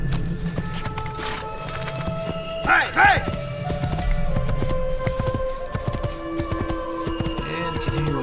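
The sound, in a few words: horse galloping hooves in video game Assassin's Creed 2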